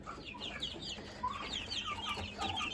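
Broiler chickens cluck and chirp close by in a busy coop, several birds calling over one another.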